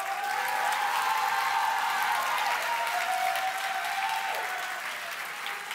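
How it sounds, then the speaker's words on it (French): Dense, continuous applause from an audience at a speaking-contest final, a loud even wash of many hands clapping for about six seconds, with a few faint cheers mixed in. "On l'applaudit bien fort."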